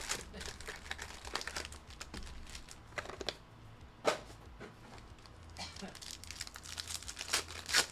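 Chronicles trading card envelopes being torn open and handled, paper crinkling and rustling in quick, irregular bursts, fairly close and quiet, with sharper tearing snaps now and then.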